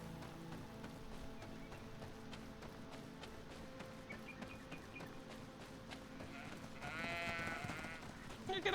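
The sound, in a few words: sheep bleating in the video game Greedfall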